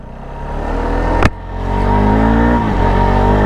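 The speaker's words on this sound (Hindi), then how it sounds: "चलो भाई बाइक को चलाते हैं" A 2025 Bajaj Pulsar RS200 motorcycle engine hums and revs up close, with a sharp shift partway through and steady engine drone after, traffic noise underneath.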